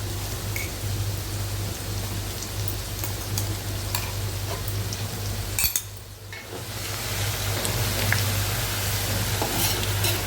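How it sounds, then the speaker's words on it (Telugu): Chicken pieces slowly frying with ginger paste make a continuous close sizzle and crackle, dipping briefly midway before picking up again, with occasional stirring clicks and no talk. "అల్లం కూడా అండి చక్కగా ఈ ముక్కలకు పట్టేలాగా స్లోగా పెట్టి వేయించుకున్నామండి"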